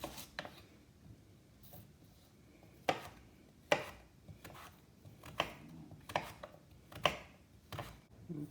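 A knife cutting a large sweet potato into quarter-inch fries on a board, a series of distinct sharp chops at irregular intervals, close and clear with quiet gaps between them.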